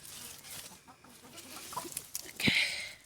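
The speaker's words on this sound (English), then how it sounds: "Chickens are getting very excited." Chickens cluck and squawk close by in a busy, uneven burst during a garlic harvest, growing louder near the end, with no one talking.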